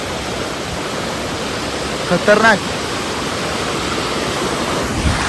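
River water near Shubhedar waterfall in Murbad rushes in a loud, steady, broadband roar. A voice briefly cuts in near the middle.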